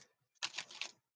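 A tarot card deck being shuffled in a short burst of quick, crisp riffling clicks, close and fairly faint, after a brief quiet lead-in.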